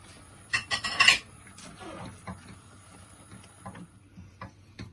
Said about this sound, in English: I'm going to very quickly start stirring this